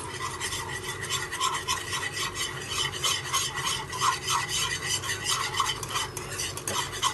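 A spoon works steadily through white sauce macaroni seasoned with chili flakes and oregano, making a rhythmic rasping scrape against the pan over a low simmering hiss.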